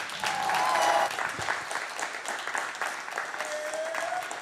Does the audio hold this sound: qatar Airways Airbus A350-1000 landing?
no